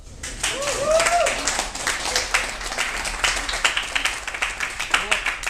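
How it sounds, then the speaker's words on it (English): Scattered audience clapping at a poetry performance during a queer cabaret night. Individual claps ring out sparsely and unevenly, and a voice talks over them. "We'll applaud you first"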